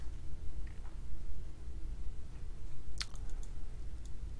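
A computer mouse gives a couple of sharp right-clicks while Manjaro Linux desktop settings are explored, brief close ticks over a low steady room hum.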